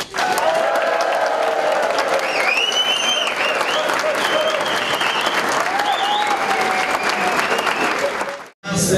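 An audience at a municipal election-night gathering in Boxtel applauds the party list leaders with loud, sustained clapping and some cheering, while voices call out over it, ending in a brief drop.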